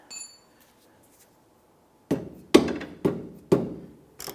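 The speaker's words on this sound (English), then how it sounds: "I'm going to go ahead and tap that bolt a little bit" Hammer tapping a bolt into the right rear shock mount of a 2001-2005 Honda Civic, four sharp metallic knocks in quick succession and a fifth at the end, after a brief clink and a quiet pause.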